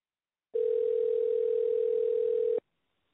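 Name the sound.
telephone tone while call is transferred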